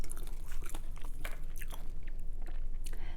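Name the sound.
chewing crunchy romaine lettuce, mukbang eating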